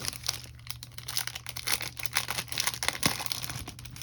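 Thick Swedish-made paper sheets crinkle and rustle up close in a steady run of crisp crackles, with a sharper snap near the end.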